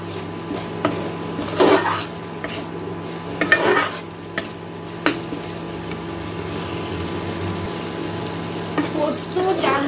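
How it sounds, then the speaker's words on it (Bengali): Cashew and brain paste cooked down with spices in a pan for a paneer kofta curry, with steady stirring scrapes and a soft sizzle, marked by a few louder spoon strokes against the pan. "এখন আমি এটাকে আবারও একটু কষিয়ে দেবো মশলার সাথে।"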